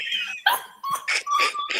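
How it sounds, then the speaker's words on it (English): A pet dog close by gives high, wavering whimpers broken by a few sharp yips and barks, loud and fairly continuous, with no one speaking over it. "This my dog right here, y'all."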